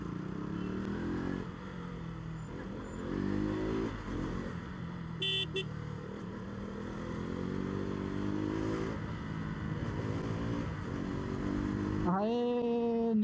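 Motorbike weaving through a jammed road, its engine running and revving up close amid the steady rumble of surrounding traffic, with a horn tooting briefly near the end.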